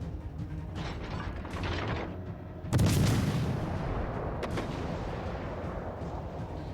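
Naval gunfire from a cruiser in World of Warships Legends, a heavy boom that breaks over a constant dense rumble of game audio, followed by mechanical clatter while someone speaks briefly.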